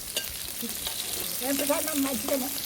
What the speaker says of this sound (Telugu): పచ్చిమిర్చి ఉల్లిగడ్డలు వేసుకున్నాం, కలుపుకుంటున్నాం